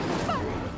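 Incendio fire spell igniting a pyre in the Hogwarts Legacy video game: one short, steady whooshing burst with a quick swishing flare, close and moderately loud, with no talking.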